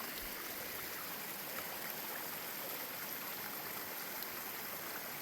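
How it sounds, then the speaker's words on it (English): A small waterfall and stream along a hiking trail give a steady, even rush of water, broad and continuous with no pauses, heard alone and fairly quiet. "little waterfall."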